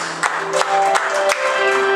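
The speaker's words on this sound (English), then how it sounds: "the Lord a hand clap of praise" A church congregation gives a hand clap of praise to the Lord, scattered claps over sustained music, with a few sharper claps standing out close by.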